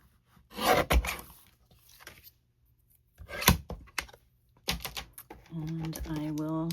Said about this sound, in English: I'm going to use my little mini cutter.